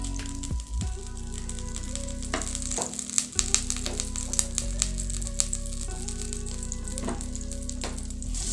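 Butter sizzles and crackles steadily in a pan for a red amaranth leaf stir-fry as cumin seeds fry in it, with a few soft stirring clinks over the continuous close frying hiss.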